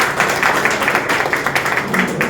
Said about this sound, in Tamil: நல்லா ஒரு கைத்தட்டல் வந்து மேம்காக கொடுத்துருக்காங்க